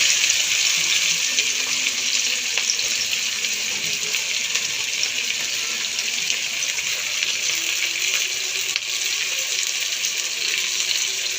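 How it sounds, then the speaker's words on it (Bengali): Onions sizzling in hot leftover fish-frying oil with two bay leaves, a steady, bright, continuous hiss of frying that stays close and even throughout with no talking. "পেঁয়াজটা আমি লাল করে ভেজে নেব।"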